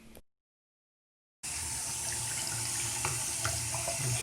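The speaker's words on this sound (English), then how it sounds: "we're going to take it over to the sink and give it a rinse anyway" Tap water runs steadily into a sink, rinsing a Maytag/Whirlpool washing machine drain filter; after a brief cut to silence the flow resumes as a close, constant splashing gush with small clunks of handling.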